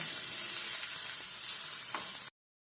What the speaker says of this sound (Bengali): এবারে ফুলকপিগুলো দিয়ে দিব ফুলকপি দিয়ে ফুলকপি থেকে মশলাটাকে আমি ভেজে নেব